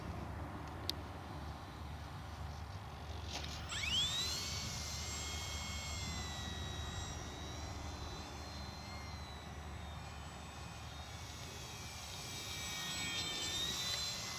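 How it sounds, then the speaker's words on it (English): An electric motor on a 1.5-metre Staufenbiel L-13 Blanik foam RC glider whines steadily in flight, its pitch rising and sliding as the model turns, heard from a distance against a low outdoor rumble. "so we'll do a bit of tight flying with the motor on"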